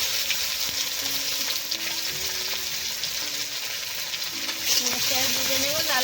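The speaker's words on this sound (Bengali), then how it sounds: "তো আমি ফোড়নের জন্য দুটো তেজপাতা আর দুটো শুকনো লঙ্কা দিয়ে দিলাম এবার একটু গোটা জিরে দিয়ে দিলাম এর পেঁয়াজগুলো দিয়ে দিচ্ছি" Sliced onions fry in oil tempered with bay leaves, dried red chillies and whole cumin, a continuous close sizzle with occasional stirring scrapes, and a voice talking over it.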